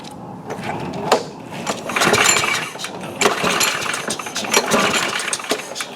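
A Briggs and Stratton 6.5 hp small engine with a clean spark plug and no air cleaner, starting and running close by in a loud, rough, uneven chug with sputtering bursts.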